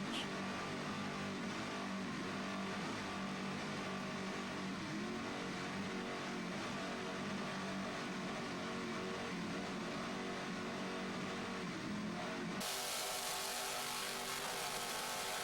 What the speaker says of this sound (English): Just listen to those 800 horsepower United Racing engines